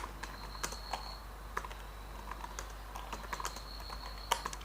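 Someone types on a computer keyboard while writing Python if-elif-else code, making quiet, irregular key clicks in small bursts with brief pauses. There is no talking, and a faint steady hum sits underneath.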